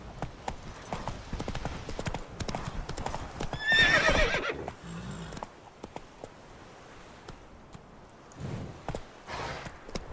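Hooves of the horse Roach clip-clop at a gallop in The Witcher 3: Wild Hunt, a steady close rhythm with a whinny midway and light game ambience around it.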